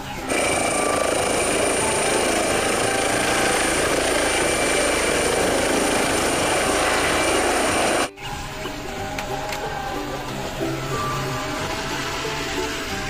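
A toy helicopter whirs with a loud, steady buzzing drone that cuts off abruptly partway through, leaving quieter rattles and clicks afterward.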